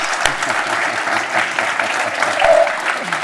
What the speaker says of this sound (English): I think we should give an applause to Mark Duggan